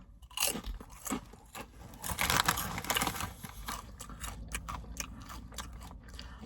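Loud, close crunching and chewing of spicy queso flavored healthy chips, with crisp bites and rapid grinding bursts in an uneven rhythm, no talking over it.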